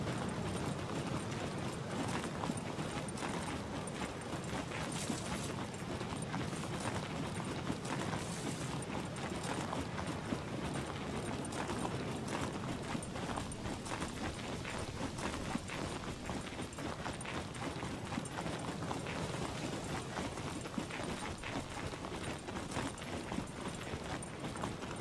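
Horse hooves clip-clopping in the survival video game SCUM, a steady rapid patter of hoof falls running under a constant hissy background for the whole stretch, fairly quiet and unbroken.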